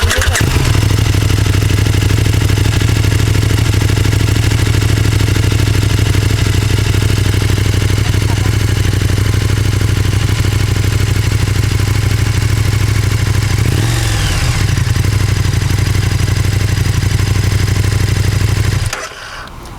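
A KTM 1290 Super Duke RR motorcycle with an Akrapovič-style silencer idles loud and close, a steady deep engine rumble running unbroken for about nineteen seconds, with a brief blip near the middle before it cuts off.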